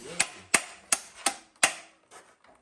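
Five sharp hammer blows at an even pace, close and loud, during a Subaru transmission change, followed by a couple of fainter knocks.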